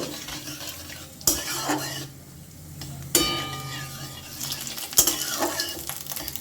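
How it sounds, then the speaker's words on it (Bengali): Cumin seeds sizzle in hot oil in a pan while a spoon stirs them, with several sharp scrapes and clinks against the metal over a steady frying hiss. No one speaks. "জিরে দশ পনেরো সেকেন্ডের মতো এটা একটু নাড়িয়ে নেব"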